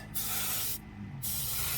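Two long bursts of spray paint hissing onto a 1/25 scale Camaro model body, close and steady, separated by a short pause.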